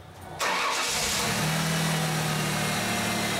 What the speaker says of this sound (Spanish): Encendemos el motor